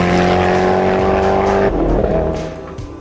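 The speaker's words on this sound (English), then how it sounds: "So the Agera R might just be the fastest production car in the world" A Koenigsegg Agera R supercar roars loudly at high revs nearby, engine note dropping sharply as it shifts or brakes, with tyre noise trailing off as the car moves away.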